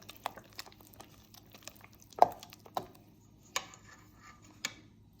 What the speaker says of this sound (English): Now I want to stir this in.